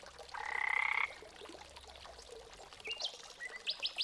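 A cartoon frog at a large well in a children's story gives a loud, buzzy croak lasting under a second, followed by softer chirpy calls and faint watery sounds.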